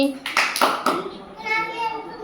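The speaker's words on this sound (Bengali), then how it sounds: "হাততালি" A toddler of about two years claps a few quick, close claps in a short burst, while a voice chatters around them.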